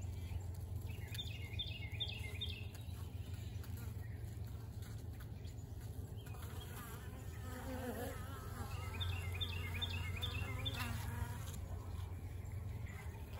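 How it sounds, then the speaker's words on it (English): Virgin honey bee queen piping inside a hive, two short runs of faint repeated high toots over a steady close buzzing of worker bees, with low murmuring beneath. "you can kind of hear her now. She was piping a little bit."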